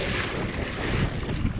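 Spray of water breaking over a boat's bow, a steady broadband wash with wind buffeting the microphone, close and continuous with no talk.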